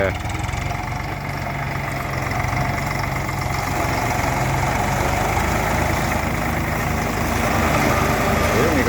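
A modern cotton-cutting machine works through green cotton plants in a farm field, its internal blades driven by a steady engine drone that holds loud and unbroken throughout.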